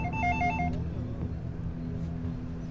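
A telephone's warbling electronic ring sounds briefly at the start and then stops, leaving a low steady hum in the room.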